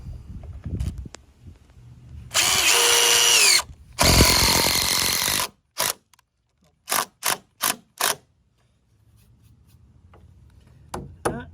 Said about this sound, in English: A couple of love taps with the old hammer drill.